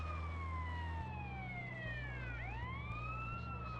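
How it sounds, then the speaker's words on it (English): An ambulance siren wails in GTA San Andreas, its tone sweeping down and back up over a steady low engine rumble, fairly faint and continuous throughout. "Clear a path. Coming through. Ambulance coming through."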